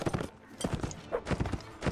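Horse hooves clip-clop at a quick gallop in the Mount and Blade Warband video game, with fairly faint, close, rapid irregular thuds and a faint whinny.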